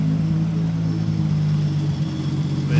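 A supercharged 1,000-horsepower Camaro engine idles with a steady, smooth low hum and a constant mid-pitched drone, close by and alone.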